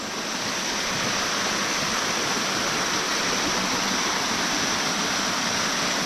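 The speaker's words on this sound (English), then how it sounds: "heard a bit of a waterfall off to the side" A small waterfall cascading down a creek in the Blue Mountains, heard as a steady, dense rush of falling water that holds at an even level throughout, with no voices over it.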